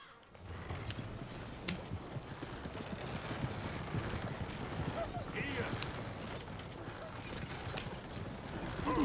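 Stagecoach horses clip-clopping in a western video game, a steady stream of hoofbeats with wheel and harness clatter at moderate level, running continuously throughout the clip.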